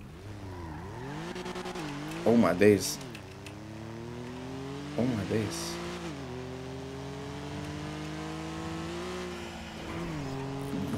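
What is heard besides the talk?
fast car speeding in a police roleplay video game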